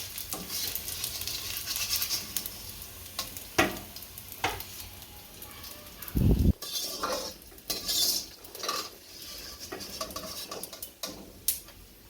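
Fried edible gum (gond) is lifted out of hot ghee, giving a faint steady sizzle with scattered spoon scrapes and metal clinks against the pan, plus one brief heavy thud midway.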